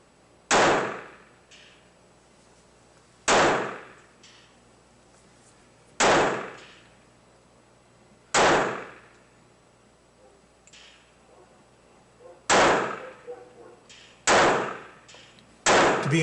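Jennings Calwestco J-22 .22 pistol fired at a slow, uneven pace: seven loud, sharp cracks several seconds apart, each decaying quickly into a quiet background.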